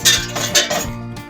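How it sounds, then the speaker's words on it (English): A metal knife scrapes and clinks against the inside edges of a cake pan with a center funnel, a few short close metallic rasps and taps in quick succession. "run a knife around the inside edges of the cake to loosen it, and don't forget to loosen it around the funnel in the middle of the pan"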